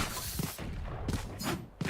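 Gunfire in a first-person shooter video game: several sharp, loud shots spaced across a couple of seconds, each with a bright crack and a low thump, over a steady background of game noise.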